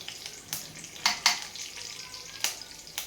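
Soft sizzling in hot oil, broken by several sharp crackling spurts and pops as cumin seeds and curry leaves hit the pan for chutney tempering; quiet and close, with no talking.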